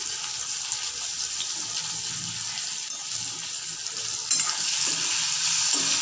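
Sesame seeds and tomato with a little salt stirred in a hot frying pan, giving a steady close sizzle with soft scraping of the spoon throughout and no talking.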